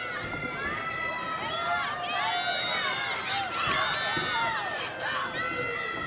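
A wrestling arena crowd cheers and shouts steadily, many voices rising and falling in excited swells that fill the whole hall.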